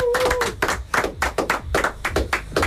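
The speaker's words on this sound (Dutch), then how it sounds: "Ed Zimmerman, applaus!" Small group clapping for Ed Zimmerman in a Radio Rijnmond studio, close and uneven bursts of hand claps with brief gaps, no voices over it.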